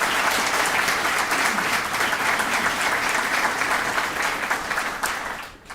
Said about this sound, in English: If you can join me in a round of applause for them